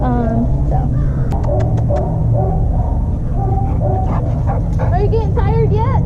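A young rescue dog about two years old yips, whimpers and barks in short bursts close by, alternating with high whining cries while people talk over it.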